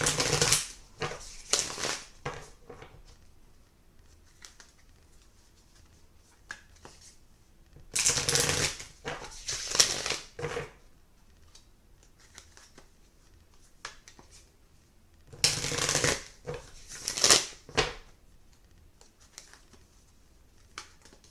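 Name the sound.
shuffling a tarot card deck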